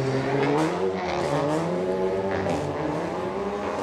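Seat Cupra TCR touring race car roaring past at high revs, a loud steady engine drone with rising and falling pitch as it accelerates and shifts, heard on its own without talk.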